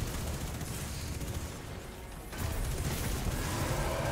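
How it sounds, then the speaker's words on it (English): Rapid Destiny 2 gunfire rattles continuously in dense bursts, loud and close, with a brief lull before the shooting resumes more heavily; no speech is heard. "Why are you shooting me, bro?"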